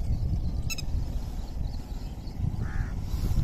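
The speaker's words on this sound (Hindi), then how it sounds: "ये देखें जी परिंदों की खुशी कितने ज़्यादा खुश है" Crows caw outdoors in pleasant weather as birds flit about, a short burst of calls heard at a moderate distance over a low rumbling wind-like background, no one talking.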